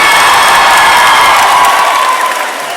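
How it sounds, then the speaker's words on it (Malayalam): A crowd at a film press meet gives loud applause and cheering for a music band and dance team, with sustained clapping, whoops and shouts that taper off at the end. "മ്യൂസിക് ബാൻഡിനും ഡാൻസ് ടീമിനും ഒരു വലിയ കയ്യടി നൽകുന്നു"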